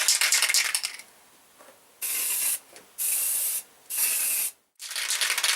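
An aerosol can sprays black paint onto a Kawasaki Z750R radiator guard in a garage: a long hiss, then three steady bursts of about half a second each separated by short pauses, and a final burst, all close and loud.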